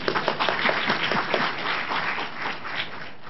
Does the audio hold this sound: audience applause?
yes